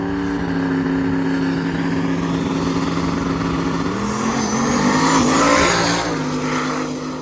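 A Ford drag racing car makes a pass, its engine droning steadily before the driver lifts and pedals the throttle, sending the pitch dipping and surging in a loud, close roar.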